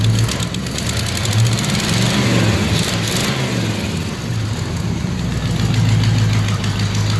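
A motor engine idles steadily with a low, throbbing rumble that holds throughout, close and fairly loud, just before being shut off.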